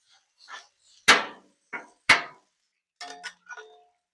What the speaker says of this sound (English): we're going to smash that rice around a little bit